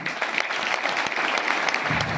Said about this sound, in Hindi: तालियां बनती हैं भाई साहब